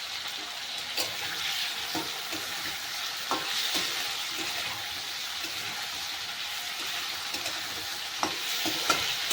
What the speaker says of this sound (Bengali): টমেটোটাকে নেড়ে চেড়ে ভেজে নেব। অল্প করে লবণ দিয়ে দেবো যাতে টমেটোটা ভালোভাবে গলে যায়।